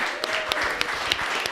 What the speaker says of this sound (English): so first of all, round of applause for Katie.